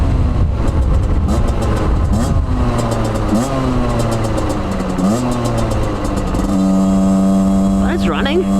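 An old Aprilia motorcycle engine runs roughly, loud and close, its pitch rising and falling through uneven revs before settling into a steadier idle.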